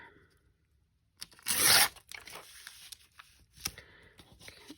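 Paper rips along a metal tear ruler with one loud, quick tearing burst, followed by softer paper rustles and small crinkles nearby.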